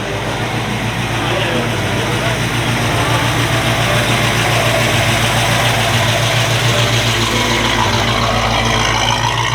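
A Plymouth Road Runner idles at an outdoor downtown sunset car show, its steady low engine rumble running continuously under crowd and background chatter.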